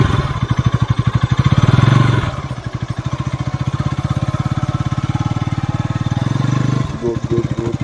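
A motorcycle ridden by a friend trying the bike for the first time, its engine thumping in a steady loud rhythm close by, swelling as it revs for the first two seconds, then settling into an even pulsing run with a brief dip near the end.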